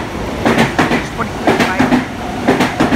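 Rhythmic clickety-clack of a Sydney H set intercity electric train passing close by a platform at night, wheels beating in steady pairs with a faint announcement over it.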